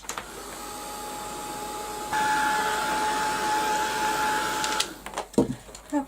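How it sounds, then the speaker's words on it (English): A heat gun blasts air over a journal page, a steady whirring hiss with a thin tonal whine that jumps louder partway through and then cuts off, leaving a few clicks and handling knocks. "I'll give this a quick blast with the heat gun"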